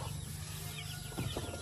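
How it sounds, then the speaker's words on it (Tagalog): Chicks from a BPR and Gilmore hen cross in a DIY brooder box: a few faint, brief high peeps near the end over a low background hum. "Guys, ito yung sisiw ko."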